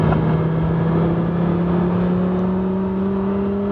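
Engine of a 2002 Dodge Viper Final Edition V10 sports car, a steady loud droning rumble held at a near-constant pitch, close by with no talk.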